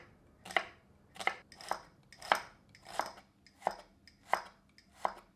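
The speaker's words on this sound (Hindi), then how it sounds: "एक बड़े आकार की प्याज को महीन काट लेते हैं।" A large onion finely chopped with a knife on a board: eight evenly spaced, crisp thuds about 0.6 seconds apart, close and fairly quiet, with no talk.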